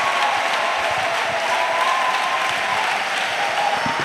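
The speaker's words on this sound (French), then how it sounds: "Let us clap to the Lord Jesus Christ." A church congregation claps in steady, dense applause that fills the space evenly and continues without a break.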